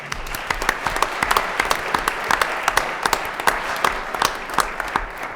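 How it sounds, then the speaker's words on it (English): A meeting audience at a school board session applauds for a group of student athletes and coaches, a steady crowd of hands clapping with sharper individual claps standing out, moderately loud throughout. "Round of applause for everybody."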